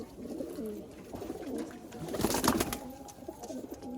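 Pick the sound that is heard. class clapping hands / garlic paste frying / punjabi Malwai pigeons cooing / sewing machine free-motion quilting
punjabi Malwai pigeons cooing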